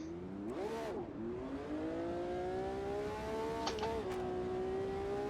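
Race car engine in the Automobilista 2 racing game, heading out on track with an older V8 supercar mentioned, revving up and holding a rising tonal drone with quick gear-change dips, fairly quiet overall.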